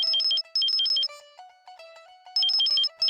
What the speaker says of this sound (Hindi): आ गया बापू दा फोन